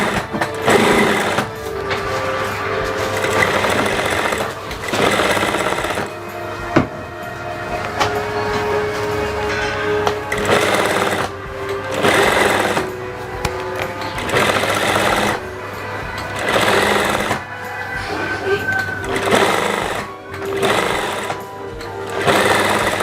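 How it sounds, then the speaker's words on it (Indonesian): Sewing machine stitching the lapel of a Kartini kebaya, running in a series of steady buzzing bursts separated by short pauses, loud and close with no talk. "Oke, yang penting kita menjahit separuh kelepak ini."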